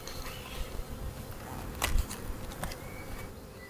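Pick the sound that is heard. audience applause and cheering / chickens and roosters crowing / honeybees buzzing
honeybees buzzing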